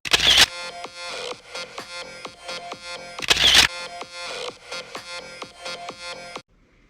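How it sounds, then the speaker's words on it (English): A camera shutter fires in two quick sequences, each opening with a bright electronic beep and followed by a rapid run of crisp mechanical clicks, close and clear with no talk. "First, let me take a selfie."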